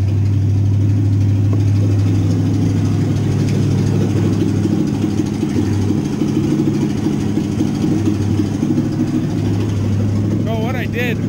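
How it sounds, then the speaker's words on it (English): A Ford F100 truck engine idles at a steady, fairly high speed, a loud continuous rumble close by with no pauses. "So it's idling kind of high."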